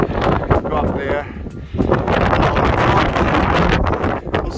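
Strong gusty wind buffets the microphone near a rocky summit of Ben Avon in the Cairngorms, a loud continuous roar with surges, while a climber speaks over it.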